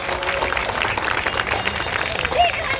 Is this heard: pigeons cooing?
no